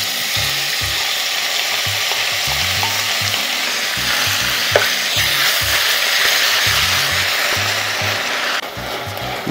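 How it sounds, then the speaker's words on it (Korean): Seaweed stir-fried with beef in a pot for seaweed soup, a loud continuous sizzle with repeated rhythmic scraping and stirring strokes close up, alone without talk. "여기에다가 이제 미역을 넣고 볶아줍니다."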